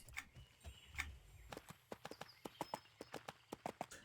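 Horse hooves clip-clop in the EverQuest 2 game, a string of crisp evenly paced hoofbeats that start sparse and settle into a quicker steady walking rhythm, fairly faint and with no speech.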